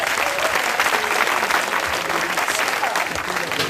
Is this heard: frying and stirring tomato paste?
no